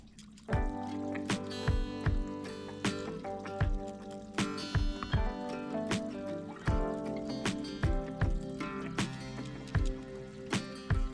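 Coolant drains from a 2005 Dodge Dakota 4.7L V8 engine in a rapid, irregular patter of drips and splashes, near and continuous against a resonant ringing background.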